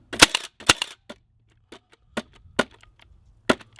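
A Milwaukee M18 cordless 16-gauge finish nailer fires several nails in quick succession. Each shot is a sharp, loud, close crack, landing in an irregular rhythm with short quiet gaps between them.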